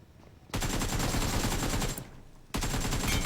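Rapid automatic gunfire in the video game PUBG Mobile erupts in two loud, sustained bursts separated by a brief pause, crackling with sharp repeated shots.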